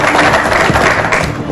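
An audience at a political party debate applauds, a dense, loud wash of clapping with scattered thumps and no pauses over a short stretch.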